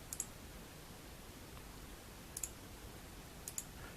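Three faint, crisp computer mouse clicks spaced about a second apart, close by against a quiet hiss, while working in Flash with an eyedropper tool.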